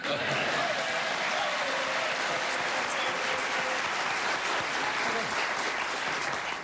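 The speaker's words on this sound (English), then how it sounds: "now you'd applaud just because you want to make me feel good" A studio audience on a host's 1984 talk show applauds loudly and steadily, a dense wash of clapping that fills the whole stretch and fades slightly at the close.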